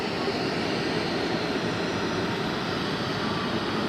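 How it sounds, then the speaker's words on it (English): Old GP Aviation Boeing 737-400 at Zurich Airport, a steady broadband jet engine rumble at moderate distance, brief and unbroken. "A GP Aviation Boeing 737-400"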